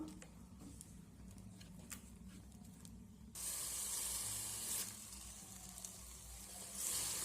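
Carrot paste sizzles in hot oil while being stirred in a pan, a quiet hiss that jumps to a louder, steady frying roar partway through, with light scraping underneath.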